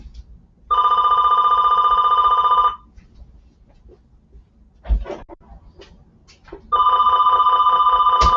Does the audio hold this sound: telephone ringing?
yes